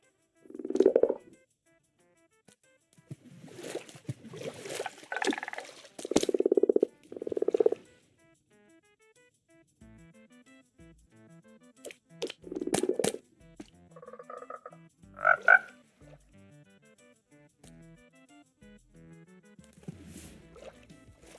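Frogs in the video game Minecraft, snapshot 22w11a, giving a series of short low croaks and gulping ribbits in scattered bursts separated by quiet gaps, close and fairly clear.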